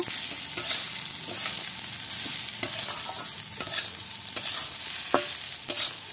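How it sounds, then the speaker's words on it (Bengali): Pulao rice sizzles gently in hot ghee for basanti pulao as a spoon stirs it, giving a continuous close hiss with regular light scrapes and clicks against the pan and no voices. "চালগুলোকে একটু ভাজা ভাজা করে নেব।"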